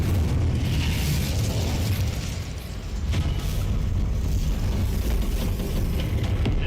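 An Incendio fire spell bursts at Hogwarts in a holiday game scene, a loud roaring, rumbling blast that holds steady, dips briefly, then surges again.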